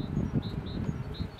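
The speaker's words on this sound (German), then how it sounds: "dass die Bienen im Honigraum sich befinden" Honey bees buzzing inside a beehive during a swarm check, a close, continuous low hum with faint insect whines on top.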